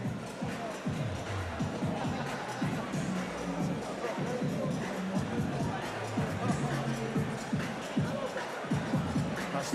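Crowd at a live boxing match in an arena, a busy murmur of chatter and shuffling with scattered shouts and claps, under a commentator talking.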